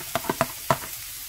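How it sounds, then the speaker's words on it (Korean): Onions and carrots stir-fry in a pan for a mushroom japchae, with four quick close scrapes of a utensil over a soft hiss of frying. "같이 볶아주세요."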